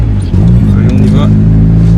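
A 1995 Honda Civic MA8 with its 1.4-litre 90 hp D14 A4 engine drives along, a steady low engine hum with a slight rise early on, heard from inside the car.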